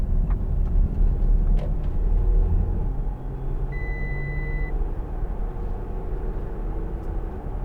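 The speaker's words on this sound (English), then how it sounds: "It's set to 50 miles an hour, and it beeps every time you go over 50 miles an hour." A steady electronic speed limit warning beep, set for 50 mph, sounds briefly in the middle, over the constant low rumble of a 2013 Audi A6 Allroad 3.0 TDI driving along the road.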